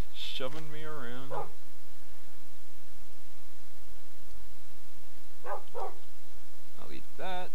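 A Minecraft dog gives a warbling whine-bark up front, then falls quiet before a couple more short, bright yips near the end.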